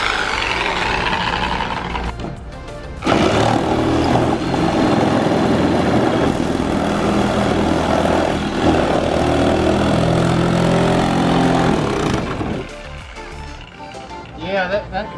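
A loud, steady metal-cutting power tool for exhaust systems whirs continuously for about nine seconds while cutting a carbon fiber Mustang hood, then cuts off, leaving quieter background noise.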